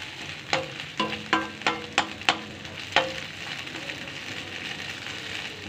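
Red chilli cooks in a hot pan while being stirred, giving a steady sizzle with a run of sharp spoon-on-pan clicks and scrapes near the start, then one more knock before the sizzle carries on alone.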